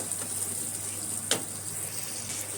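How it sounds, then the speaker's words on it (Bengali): Spice paste of onion, ginger and garlic fries in a pan with a splash of water, giving a steady close sizzle with one brief clatter of a spoon partway through. "একটুখানি জল দেব যাতে মশলাটা পুড়ে না যায় দিয়ে দেবো সামান্য একটু জল এবার মশলাটাকে ভালো করে কষিয়ে নেব"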